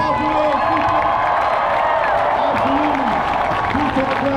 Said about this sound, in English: give it up a round of applause for those people.